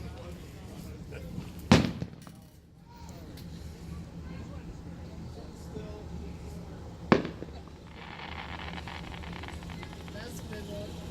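Fireworks burst at the Syracuse Nationals car show, two sharp booms a few seconds apart over steady crowd murmur and outdoor background noise.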